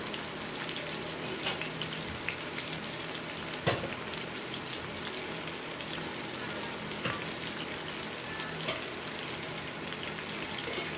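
Tomatoes frying in a hot pan give a steady, fairly faint sizzle and crackle with a few sharper pops, heard alone without talk.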